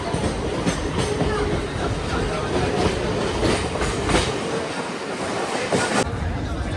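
A train rumbles across a railway flyover near Bandra station in Mumbai, loud and close with continuous wheel clatter and rhythmic clicks over the rails, and a voice speaking faintly beneath the roar.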